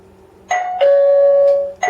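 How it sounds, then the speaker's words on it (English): A Xiaomi Mi smart home security system sounds its doorbell chime: a clear two-tone electronic ding followed by a longer sustained tone, then another strike starting at the end, close and loud with no voices. "Just a simple doorbell for that one."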